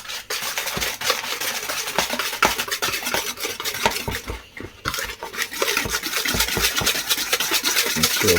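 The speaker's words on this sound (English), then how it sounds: "This is for the custard that's going to go on top of the jelly. Just going to whisk that up now." Custard for a trifle is whisked briskly in a bowl, a fast, steady run of close scraping and tapping strokes against the sides with a brief pause midway.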